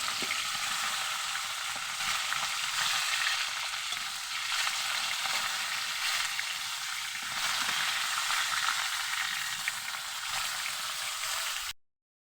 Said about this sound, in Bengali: তেলের মধ্যে জিরে দিয়ে দিলাম আলু ছেড়ে দিলাম আলুগুলো লাল লাল করে ভেজে নেব